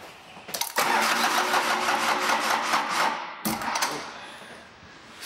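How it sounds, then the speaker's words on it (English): A Cummins 4BT 3.9 diesel engine in a Tahoe cranks and fires up, then settles into a steady rising idle with a brief cutout and restart, loud and close. "It should fire up, and as I turn that, it's gonna rev up higher too on the idle."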